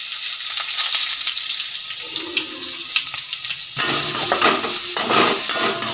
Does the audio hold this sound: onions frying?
yes